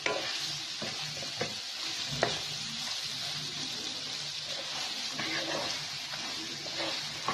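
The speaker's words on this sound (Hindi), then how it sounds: "इसको बिल्कुल हल्की फ्लेम पे और मैं इसी तरह से भूनती रहूँगी। जब तक कि ये कैरियाँ गल न जाएं।" Small raw mangoes roasting in a pan over a low flame give a steady soft sizzle, with occasional scrapes and taps from stirring, close and continuous.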